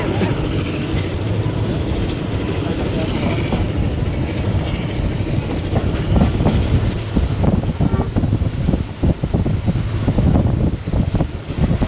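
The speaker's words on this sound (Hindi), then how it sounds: "ट्रेन इस वक्त हड़प्पा रेलवे स्टेशन से पास थ्रू हो रही है और 110 से 111 किलोमीटर फी घंटे की रफ्तार से क्रूज़ कर रहा है" Khyber Mail passenger train running on rails at around 110 km/h, passing through a station: a steady, loud roar of wheels and carriage rumble with rhythmic clatter and wind noise, continuous throughout.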